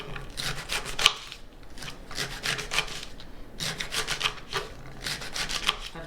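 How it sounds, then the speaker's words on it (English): A knife slices through a leek on a cutting board in short rhythmic bursts of crisp cutting and scraping, close up, with small knocks of the blade against the board and no voices. "Next we're going to cut up our leek in little slices."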